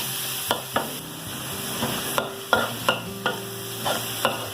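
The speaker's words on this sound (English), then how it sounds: "I just love that sizzle, man. When you got a nice hot wok on that burner" Green beans and minced pork sizzle in a hot wok over a strong burner for a Thai stir fry, a steady close hiss punctuated by regular sharp scraping strokes of the spatula, with no voices.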